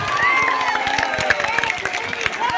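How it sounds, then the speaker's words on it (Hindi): A large crowd at a political rally in Bihar claps and cheers loudly and continuously, a dense close wash of applause with voices mixed in. "अब बजा लो ताली जितना जोर से बजाना"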